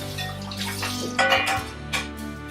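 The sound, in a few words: rinsing out a dish under running water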